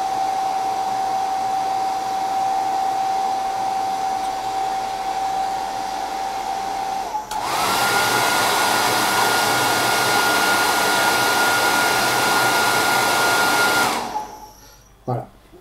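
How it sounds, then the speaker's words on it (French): A hair dryer roars steadily up close, its whine rising when switched to a higher setting, then cutting off abruptly near the end. "Petit coup de sèche-cheveux."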